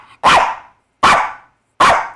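A dog barks on command three times, loud and close, with sharp evenly spaced barks and silence between them and no talking.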